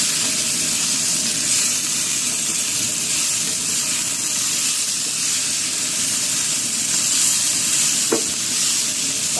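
Green beans seasoned with salt, pepper and garlic powder frying in a pan, a steady loud sizzle and hiss with a single faint stir or clink near the end.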